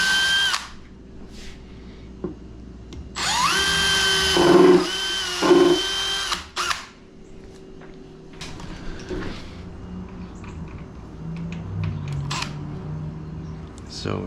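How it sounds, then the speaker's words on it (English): Power drill driving screws into a French cleat while installing a cabinet, two or three short whirring bursts close by, with a person talking between them and quiet handling noises afterward. "So let's get the screws in here"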